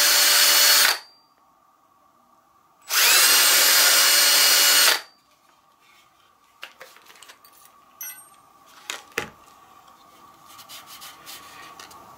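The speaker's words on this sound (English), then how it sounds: "And I'm going to drill it beside the other hole" A power drill bores a small hole for a wire in a homemade shock collar tester, with two loud whirring bursts followed by quiet clicks and handling noises.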